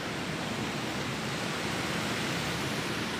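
River water released from a dam rushes at high speed into a rice paddy field, a loud, constant broadband roar with no breaks, close by.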